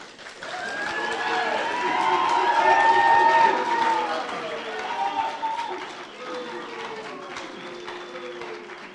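An audience at a public hearing of the Arizona Redistricting Commission in Tucson cheers and applauds, a sustained crowd roar with clapping and voices that swells to a peak and then slowly fades.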